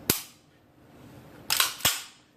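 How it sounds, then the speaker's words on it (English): Dry-fire clicks from the trigger of a Springfield TRP pistol: one sharp metallic snap, a pause, then two more quick clicks close together, near and crisp. "And I pull the trigger a couple of times."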